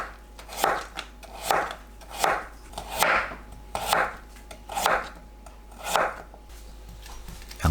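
A knife slices radish into 0.5 cm rounds on a cutting board, about eight crisp, evenly spaced chops at a steady rhythm, close and clear with no talking.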